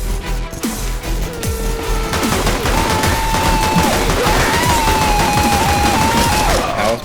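Rapid gunfire in Counter-Strike, loud dense bursts of shots crackling almost nonstop with overlapping weapon reports and game effects, no clear talk over it.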